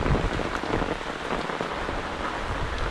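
Steady rain pours down, a dense hiss of drops pattering on surfaces nearby, continuous and fairly loud with no voices.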